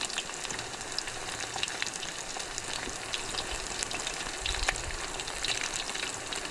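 Siomai and eggplant (talong) frying in hot oil, a steady dense sizzle with crackling pops that runs evenly throughout, fairly quiet and heard alone without talk.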